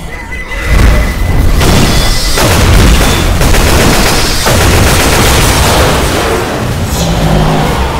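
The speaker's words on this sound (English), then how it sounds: "Look out! Grenade!" Loud booming blasts and heavy gunfire roar through Left 4 Dead 2 gameplay, a grenade explosion among dense, sustained chaotic combat noise.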